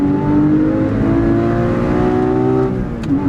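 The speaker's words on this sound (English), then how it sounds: "So if we downshift the first gear and we hit it, first, second," Sports car with a manual gearbox accelerating hard, a loud sustained engine note climbing steadily in pitch, then dipping briefly near the end as if shifting to the next gear.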